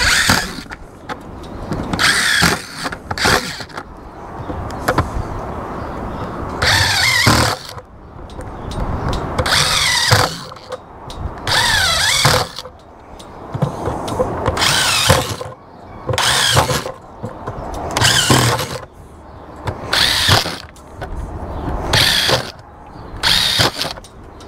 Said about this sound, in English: I'm gonna use my reciprocating saw to go ahead and cut around the top.